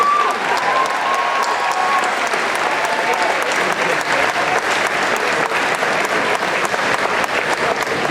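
Student assembly crowd in a school gym applauding and cheering, dense continuous clapping at steady loudness for the whole stretch, a few voices mixed in.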